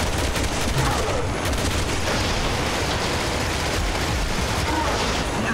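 Sustained gunfire in Resident Evil 6, a loud and continuous barrage of shots that fills the whole stretch without a break.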